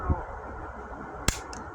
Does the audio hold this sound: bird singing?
no